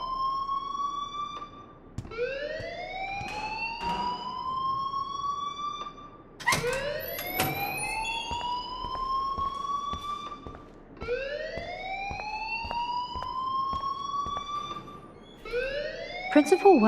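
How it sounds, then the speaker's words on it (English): Fire alarm in the video game Life is Strange, repeated rising electronic siren sweeps in a slow cycle, loud and close, with short speech-like gaps between some sweeps. "please turn off that alarm since that's your job"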